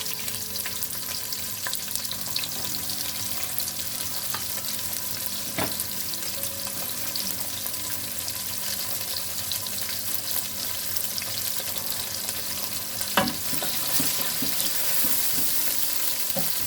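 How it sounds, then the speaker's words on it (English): Onions fry in oil while being stirred, a constant close sizzle with occasional scrapes and knocks of the spoon against the pan, steady throughout with no voices. "Just stir that around in the oil."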